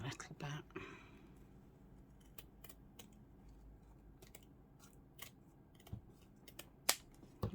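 Scissors snip paper being trimmed for a junk journal: a string of sharp, close, crisp cuts at irregular intervals over a quiet background, with soft handling noises between.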